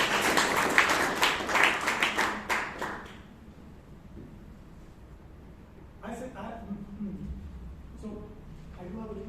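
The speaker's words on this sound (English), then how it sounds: "a round of applause for this wonderful team spirit that we have here" An audience at a Toastmasters club meeting in Bangalore gives a round of applause, a brisk burst of clapping that fades after a few seconds and gives way to faint talk and scattered taps.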